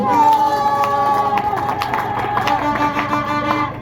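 A church congregation cheers, shouts and claps in praise during a year-end deliverance service, a loud, lively crowd sound with voices rising over scattered clapping.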